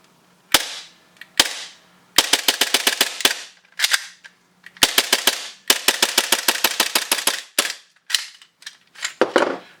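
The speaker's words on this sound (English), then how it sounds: "Let me do a little dry fire for you guys." Propane-powered airsoft Glock pistol dry firing: sharp, loud snapping shots alone, some single, most in rapid bursts of five to ten with brief pauses between strings.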